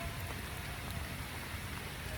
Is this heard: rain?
yes